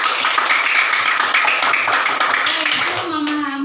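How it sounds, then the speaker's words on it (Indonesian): Schoolchildren clap their hands together in a classroom during a Quran studies lesson, a brisk burst of many small hands that fades out under a teacher's voice and children's chatter. "Iya, tepuk tangan."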